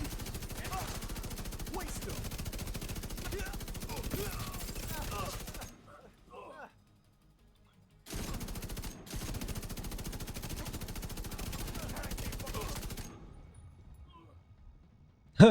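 Bullet King light machine gun firing in The Division 2, long sustained bursts of rapid gunfire broken by two short pauses, loud and continuous.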